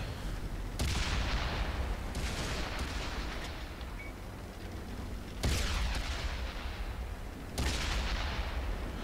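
World of Tanks tank cannons fire as friendly fire, sounding as four loud, booming blasts spaced a couple of seconds apart, each trailing into a rumbling decay over continuous battlefield noise.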